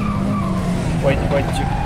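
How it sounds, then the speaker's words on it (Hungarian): Worn, sliding tires on a Fiat Coupe 2.0 20V Turbo squeal briefly on a race track during a timed lap, a couple of short rising skid squeals over steady engine and cabin roar. "az autó sokkal többet tudna vélhetően, csak annyira csúszkál a gumikon"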